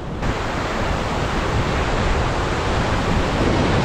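An ocean wave washes over a rocky shore during luderick fishing, making a loud, steady rush of surf that fills the whole stretch with no voices.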